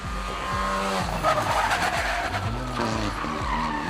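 Rally cars tear through a 20 km special stage lined with spectators in the Vosges villages, engines screaming and shifting at full speed in repeated loud passes, tires squealing, with no one talking.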